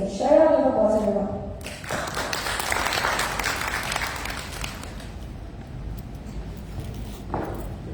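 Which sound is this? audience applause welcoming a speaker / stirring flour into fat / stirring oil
audience applause welcoming a speaker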